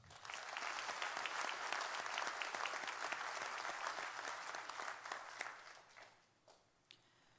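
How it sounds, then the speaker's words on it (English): Applause at a Brevard County Sheriff's Office awards ceremony: sustained, crisp clapping from an indoor crowd, steady for several seconds and then tapering off into a few scattered claps. "Another round of applause."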